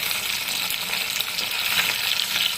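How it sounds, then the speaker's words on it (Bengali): Boroli fish sizzle steadily in hot oil in a pan just after being flipped, a close, dense crackling hiss that runs unbroken without any voices. "মাছগুলো এখন উল্টাবো, এক পাশটা ভাজা হয়ে গেছে, ওই পাশটা ভাজবো এইভাবে।"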